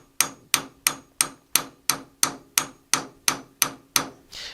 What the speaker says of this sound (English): I'm giving it a pretty good tap, but I'm not wildly swinging this thing